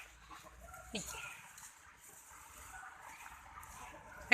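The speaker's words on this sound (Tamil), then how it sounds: "ஒரு தாய் கோழி குஞ்சுங்க நல்ல சண்டை கோழி குஞ்சுங்க" Soft clucking from a mother hen and chicks in a farmyard, a sharp bird call near the start, with faint talking and outdoor background noise.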